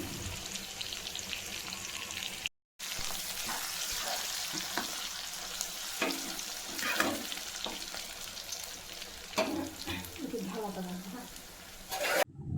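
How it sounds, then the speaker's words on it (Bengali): Fish oil fries in a pan with potato and bottle gourd, a continuous close sizzle punctuated by occasional stirring scrapes and pops. "তবে আরেকটু ঢাকা দিয়ে ভাজবো, ভাজলে তারপরেই হয়ে যাবে"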